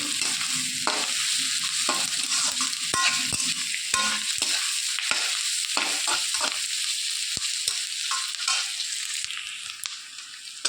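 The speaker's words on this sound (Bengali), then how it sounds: "দিয়ে ভালো ভেজে নেড়ে চেড়ে ভেজে নেব এটাকে।" Onion, ginger, garlic and green chili fry in hot oil with a constant loud sizzle, while a spoon scrapes and clicks against the pan at irregular moments as the mix is stirred for a Bengali mutton dish.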